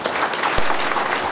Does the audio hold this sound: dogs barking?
no